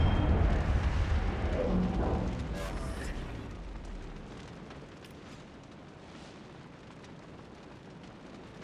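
An enemy battleship blowing up in a naval warfare game, a heavy booming explosion that opens loud and rolls off into a long fading rumble, with a voice speaking over it.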